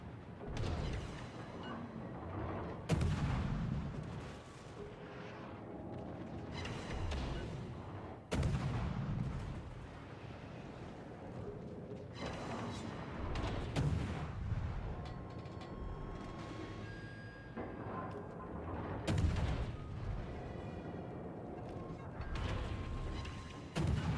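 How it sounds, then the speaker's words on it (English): Heavy warship main-battery salvos in the naval combat game World of Warships, deep booming blasts recurring every few seconds over a continuous low rumble, loud and close with no talking. "Concentrate fire on the designated target."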